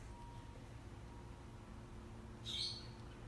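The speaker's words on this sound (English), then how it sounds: "Sorry about all these birds. I have my window open for better lighting." A single bird chirps outside an open window, one brief, bright, high call late in an otherwise quiet indoor room with low background hum.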